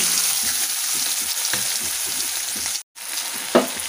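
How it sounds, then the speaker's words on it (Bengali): Onion and green chilli frying in hot oil left over from potatoes, a steady close crackling sizzle with a brief dropout near the end and one sharp clink afterward. "আমি পেঁয়াজটাকে ভালো করে ভেজে নেব, লাল লাল করে একদম"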